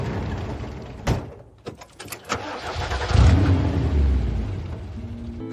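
A car engine cranks with a few sharp clicks and turns, then catches and settles into a steady running rumble, close and fairly loud.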